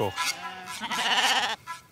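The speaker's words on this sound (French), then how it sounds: "elles sont très belles parce que c'est des brebis" Ewes bleat in a pasture in southern Corsica, several wavering calls close by and fairly loud in a short run, with a brief pause before a final cry.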